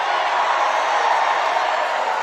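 A large political rally crowd in North Carolina roars in steady, dense cheering, a continuous loud wash of voices with no breaks.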